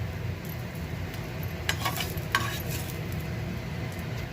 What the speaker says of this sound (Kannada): ಬೆಳ್ಳುಳ್ಳಿ ಮತ್ತು ಶುಂಠಿ ಒಂದು ಸ್ವಲ್ಪ ಚೆನ್ನಾಗಿ ಹಾರಬೇಕು